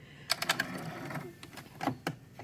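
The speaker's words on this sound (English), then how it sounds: "I'm going to go sew right up to my 1/4 inch mark" Sewing machine stitching quilt binding up to a corner, a few short bursts of rapid needle clatter with brief pauses between them, close and fairly quiet.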